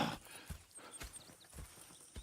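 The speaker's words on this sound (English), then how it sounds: "Go check the horses are ready." Horses in the Red Dead Redemption 2 video game, a few soft hoof clip-clops in a slow walking rhythm, with a brief whinny and faint background ambience, no one speaking.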